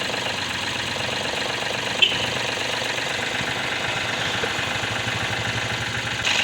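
A Mahindra TUV300 engine idles with an unusual knocking rattle coming from a loose pipe, a steady close rough clatter running throughout with one brief click.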